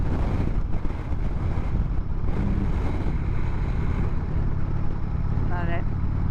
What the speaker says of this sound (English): it's really fucking windy, so hopefully you can hear me